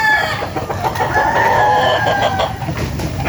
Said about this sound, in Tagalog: Diba manok dito?